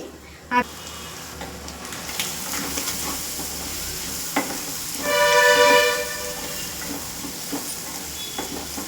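Egg samosa stuffing cooks covered with a lid, giving a steady low sizzle and soft hiss with a few clicks and clatters, and a louder burst of bubbling and steam partway through.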